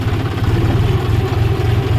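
Loud, close rumble of a tractor engine idling on a farm, with a steady chugging pulse and rattling throughout.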